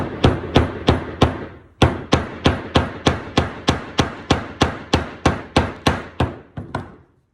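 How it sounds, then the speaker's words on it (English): A steady series of about eighteen sharp hammer taps driving a wooden plug into a pocket hole, close and evenly spaced, with a brief pause after the first few. "slide it in as much as you can by hand, then tap it with a hammer"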